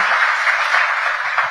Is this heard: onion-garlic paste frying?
no